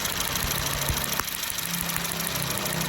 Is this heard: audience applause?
no